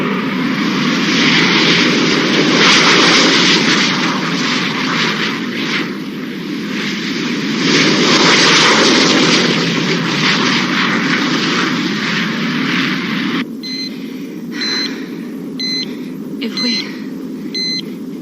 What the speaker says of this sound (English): Stand by to scramble aircraft.